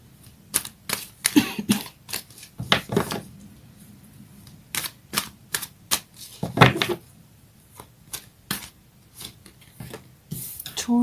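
Astrology cards being drawn, shuffled and handled, giving a run of sharp, irregular snaps and flicks spread across the stretch, fairly close and with no talking over them.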